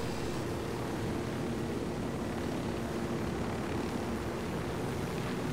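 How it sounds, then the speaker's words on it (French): A steady, loud helicopter drone in the video game Ghost Recon Wildlands, with a constant engine hum and rotor noise, unbroken for several seconds with no voices. "ce pauvre hélicoptère est sensible."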